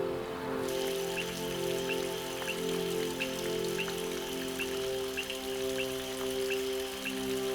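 Steady rain pours down in a storm over Table Mountain, a dense, continuous patter of drops striking surfaces, close and even with no voices.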